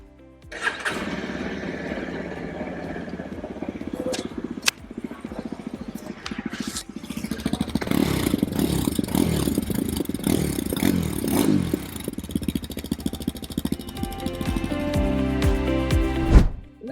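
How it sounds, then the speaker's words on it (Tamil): A 2025 Yezdi Adventure motorcycle is switched on and fires up, then its exhaust rumbles and revs in repeated throttle blips, close and loud, with no talking. "இப்போ நம்ம மோட்டார் சைக்கிளை ஸ்விட்ச் ஆன் பண்ணுவோம்,"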